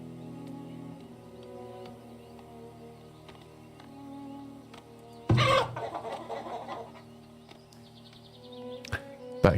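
Chickens cluck in the farming village of the game Farthest Frontier, a busy layered flock over a low droning music bed, with a louder burst of clucking midway and another near the end.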